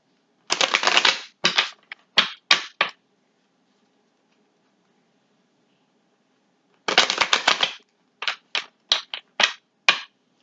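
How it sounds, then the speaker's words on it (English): Tarot cards from the Witch's Tarot deck are shuffled nearby in two crisp riffling bursts, each trailed by several sharp taps, with a stretch of silence between them. "I'm going to shuffle"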